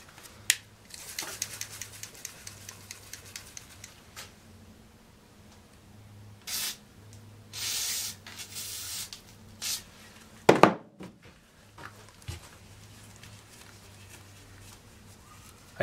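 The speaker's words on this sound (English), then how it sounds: "Try to clean this with some WD-40." WD-40 is sprayed onto the power switch of a Bosch 1617 fixed-base router in several short, sharp hissing bursts, close and separated by quiet pauses.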